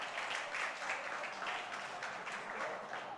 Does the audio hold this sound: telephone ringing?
no